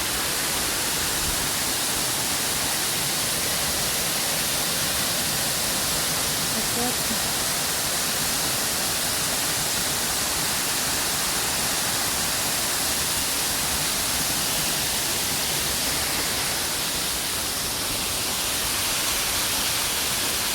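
A waterfall near a hill roars as a dense, even rush of falling water, loud and unbroken from start to finish.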